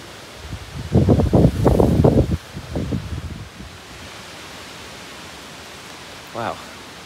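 Wind blows steadily at a riverside fishing spot, a broad rushing noise that lasts throughout, while a person talks briefly near the start and a short voice comes again toward the end.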